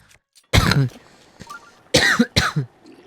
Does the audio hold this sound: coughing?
yes